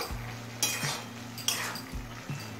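Radish greens being stirred in a pan over a high gas flame, with a few sharp clinks and scrapes of a utensil against the pan above a steady low cooking hum.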